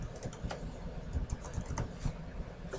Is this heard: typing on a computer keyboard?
yes